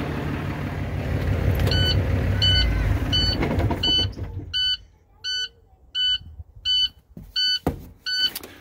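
A 2011 International ProStar truck's lights-on warning chime beeps repeatedly at an even pace, about ten times, first over engine noise and then alone after the engine stops.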